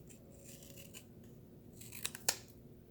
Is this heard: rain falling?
no